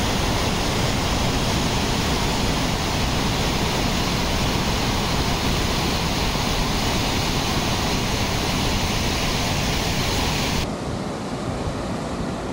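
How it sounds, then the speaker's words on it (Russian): Turbulent mountain river in Georgia roaring in full flood, a loud, dense, continuous rush of whitewater that fills the whole clip with steady broadband noise and no voices. "чтобы показать, насколько бурная и сумасшедшая река."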